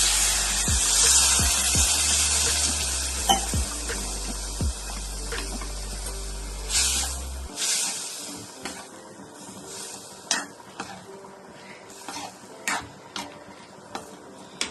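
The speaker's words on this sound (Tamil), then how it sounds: "லேசா கொஞ்சமா தண்ணி ஊற்றிக்கோங்க." A pan of sautéing tomato masala for country chicken curry sizzles with stirring scrapes, then the sizzle cuts off abruptly as a little water is added, and quieter scattered clinks and scrapes follow.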